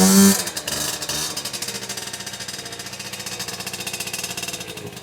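A rebuilt Honda NX50 SR moped engine runs steadily close by after being started with a drill, its loud, fast, even putter holding a buzzy two-stroke rhythm throughout with no talking.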